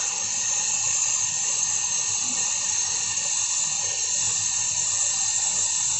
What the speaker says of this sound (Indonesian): Oke, jadi kita las.